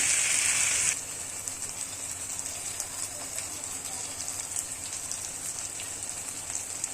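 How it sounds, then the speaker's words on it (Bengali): Onions or spices frying in a pan while cooking a katla fish curry with mustard and brinjal, giving a steady crackling sizzle that starts with a brief louder burst, then settles into a continuous, moderately close hiss. "ভালো করে ভেজে নিচ্ছি।"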